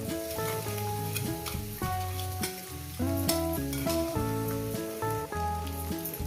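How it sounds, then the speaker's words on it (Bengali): Cauliflower and egg fry with ginger, garlic and green chili, making a continuous sizzle with stirring scrapes under prominent melodic background music. "দিয়ে দিয়েছি আদা রসুন কাঁচা লঙ্কাটাকে দিয়ে দিয়েছি এটা দিয়ে এটাকে ভাজবো"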